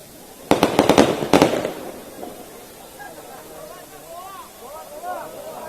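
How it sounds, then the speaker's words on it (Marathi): Firecrackers burst at an outdoor political rally: two quick clusters of sharp, loud cracks early on, then a lower crowd murmur continues underneath. "फटाके विझवा, लावू नका फटाके."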